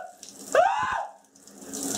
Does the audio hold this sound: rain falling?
no